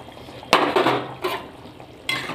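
Spoon stirring katla fish curry in a pan, a few scraping, swishing strokes against the metal over a low simmering hiss, close and fairly quiet.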